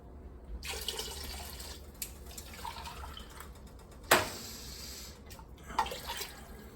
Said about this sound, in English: put an equivalent of this can, the 796 milliliters, of water